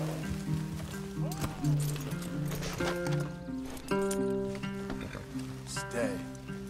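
Horses' hooves clip-clop steadily in Red Dead Redemption 2, beneath game music and a voice speaking over them.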